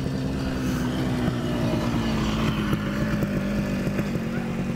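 A three-wheeled motor vehicle drones steadily close by, its engine holding a continuous low tone with slight pitch drift and a faint wind rumble.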